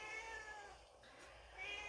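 A house cat meows in a home kitchen, a couple of drawn-out, tonal meows close by, one early and another near the end, with no talk over them.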